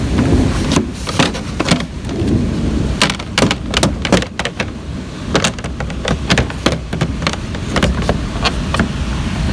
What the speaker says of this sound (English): Sounds like we've got a storm going on.